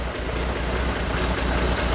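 Steady, even idle from a 1963 Chevrolet Corvair Monza convertible engine, a continuous low rumble with a faint rhythmic pulse, close and unbroken throughout.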